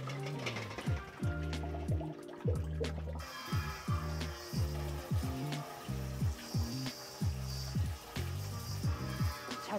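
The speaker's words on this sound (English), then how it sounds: "take them over and rinse them in some really cold water" Boiled eggs rinsed under really cold running water, a steady splashing fill with repeated pulsing bursts and a faint sizzle in the background.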